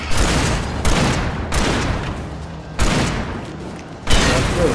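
Gunfire in the Alan Wake Remake video game: several loud, sharp shots land at irregular intervals, each followed by a decaying echo, close and dominant.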